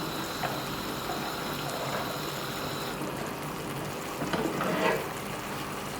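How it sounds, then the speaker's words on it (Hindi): Water is poured into a pot of boiling rice while Bombay biryani cooks at home. A steady rushing and bubbling wash runs throughout, with a brief louder splash near the end. "पानी गिरा देंगे।"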